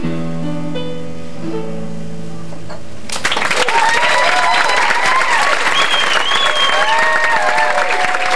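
A cabaret audience at a theatre bursts into applause after a song: the sustained final note of the music fades, then dense, loud clapping erupts and continues steadily with scattered cheers.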